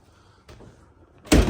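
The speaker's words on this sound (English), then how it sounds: "but I'm gonna close the door." A car door on a GM G-body fitted with a custom lit console swings shut with one loud, close thud at the end, after a stretch of quiet shuffling.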